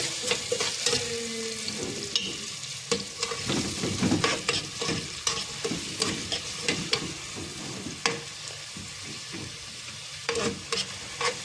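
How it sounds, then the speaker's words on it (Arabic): Chopped onions stirred in a hot frying pan for a spinach dish, a steady sizzle broken by repeated scraping and clacking strokes of a spoon, close and fairly loud with no talking. "مقطعه بصلتين اهو، اقلب كده."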